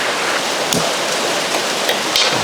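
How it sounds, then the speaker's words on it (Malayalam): Heavy rain drumming on a metal sheet roof makes a dense, continuous hiss with scattered sharper patters, loud and close throughout. "ഇത് മേളിൽ ഷീറ്റാണ് അതിൻ്റെ മേലിലോട്ട് വെള്ളം കൂടെ വീഴുമ്പോൾ ഒന്നുകൂടെ ശബ്ദം"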